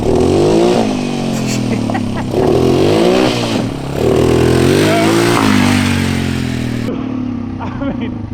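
A 1980s Honda Fat Cat big-tire dirt bike, revived after sitting 15 years and a little down on power, revs up loudly and close in repeated surges, with voices talking over the engine.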